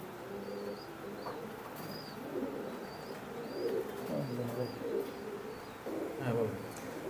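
Imported Teddy pigeons from Oman, a breeding pair sitting on eggs, give soft, repeated low coos close by against a quiet background, while someone talks now and then.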